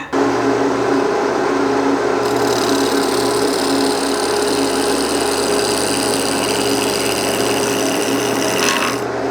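A scraper rides against a spinning wooden bowl on a lathe, making a continuous close rasping hiss over the machine's steady hum, with a brighter scraping layer joining after a couple of seconds.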